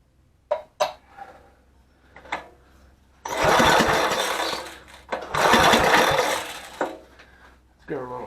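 A 7HP Briggs and Stratton generator engine is cranked in two bursts of loud, rough sputtering, each lasting a couple of seconds without catching. Short clanks and a speaking voice come between the attempts.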